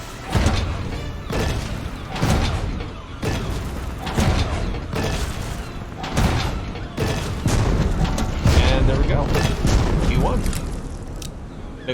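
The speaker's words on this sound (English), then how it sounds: "Big old fireworks, boom, boom." A series of booming firework blasts and crackling bursts repeat every second or two, loud and dense, with game-like clatter throughout, in the pirate ship battle game Blazing Sails.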